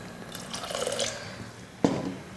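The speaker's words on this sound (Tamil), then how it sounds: "கொஞ்சமாக தண்ணி சேர்த்துக்கிறேன்." A little water is poured into a cooking pot holding amaranth stems, moong dal and coconut milk: a short, soft splash and trickle, followed by a sharp metallic clink near the pot, with no talking.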